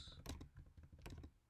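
Computer keyboard typing while entering a line of text, quiet close clicks in short uneven clusters with small pauses between bursts.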